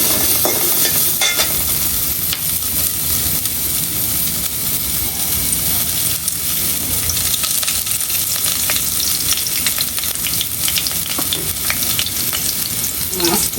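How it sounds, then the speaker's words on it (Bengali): Tengra fish curry with onion sautéing in a pan, Bengali home style, a loud, continuous close sizzle with steady stirring and scraping, no talking. "ট্যাংরা মাছ কষে কষে রান্না করবে।"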